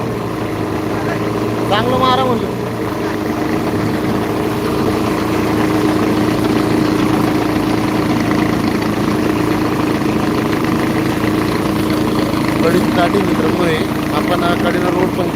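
A tractor engine idles nearby on a farm with coconut trees, a steady low rumbling drone, and voices speak briefly over it.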